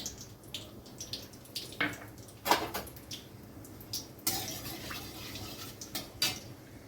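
Dry red chilli and black cumin sizzle and spatter in hot oil in a pan, a steady hissing crackle with sharp pops at irregular moments, close and fairly quiet.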